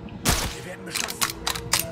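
Gunfire in Sniper Ghost Warrior 3 comes as a handful of sharp, close shots, one heavy blast followed by several quicker cracks in an uneven rhythm over a low background hum.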